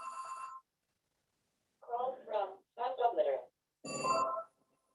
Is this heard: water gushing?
no